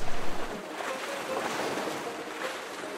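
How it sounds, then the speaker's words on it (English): Gentle lake waves wash against a shore in Michigan's Upper Peninsula in a soft, continuous hiss, with a few low wind buffets at the start. "just listening to the waves"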